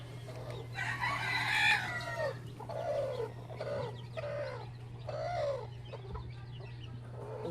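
Native labuyo chickens outdoors, with a run of short rising clucks and calls repeating at a steady pace alongside an early crow, close and moderately loud over a constant low hum.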